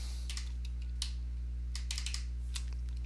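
A computer keyboard clatters in quick, uneven bursts of keystrokes as a username is entered, close and clear against a steady low electrical hum, with no talking.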